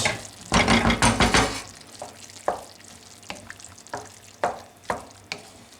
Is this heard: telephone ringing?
no